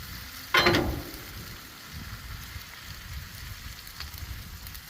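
A spaghetti and cheese quesadilla fries in a pan with a steady, soft sizzle and a brief louder crackle near the start.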